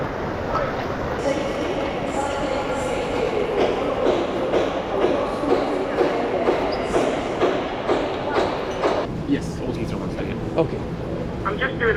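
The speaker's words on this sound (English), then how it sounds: "This is always a busy place. It's one of the major train stations here in London." Busy major London train station ambience, a dense, steady wash of crowd chatter, footsteps and clattering echoing through a large hall, with voices talking throughout.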